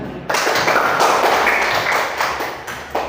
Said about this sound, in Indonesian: Tepuk tangan dulu untuk jawabannya.